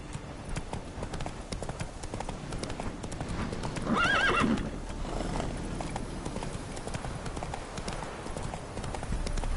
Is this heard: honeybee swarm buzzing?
no